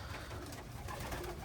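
Pigeons in a racing loft coo softly and continuously at close range over a steady, noisy background, with no talking.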